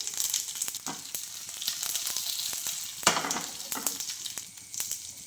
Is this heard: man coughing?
no